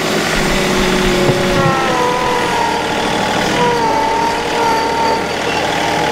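A loader engine revs at high RPM, around 2500, fitted with a HydrosPlus 2R3E two-function valve and e-throttle: a loud, steady, close diesel drone whose tone wavers slightly, with no talk.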